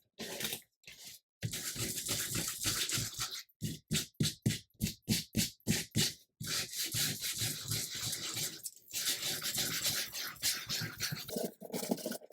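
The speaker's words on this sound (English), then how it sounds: "This one I'm going to use my sandpaper and" Sandpaper rasps around the edges of cardstock journal tags, a close, loud scratchy rubbing in long continuous strokes broken by a run of quick short back-and-forth rubs.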